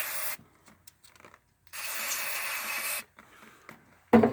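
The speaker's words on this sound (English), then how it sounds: "I'm going to try to spray the other stuff on it" Two short hissing bursts of lubricant from a spray can hit the cam switch motor pin of a Rowe jukebox, close up. Faint handling clicks and a final thump come between and after the sprays.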